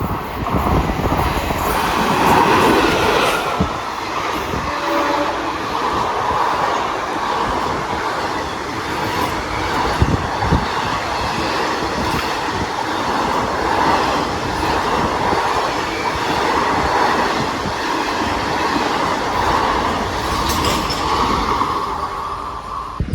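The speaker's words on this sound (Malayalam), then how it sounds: "മംഗലാപുരത്തേക്ക് പോകുന്ന ഏറനാട് എക്സ്പ്രസ് ഇപ്പോൾ സ്കിപ്പ് അടിച്ചിട്ട് പോയി" The Eranad Express, hauled by a WP4 locomotive, rushes through Ezhimala railway station without stopping, a loud, continuous roar of rolling wagons with steady wheel rumble and clatter, plus a brief high squeal near the start and a high squeal again near the end.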